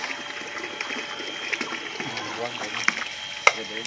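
Dirty, turbid well water flows and splashes steadily through a home well-water filter during backwash, a continuous watery rush with occasional sharp clicks, while a person speaks over it at times.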